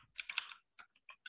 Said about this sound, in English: So I'll press the space bar on the keyboard. I'm going to have a space. Then I'm going to type students.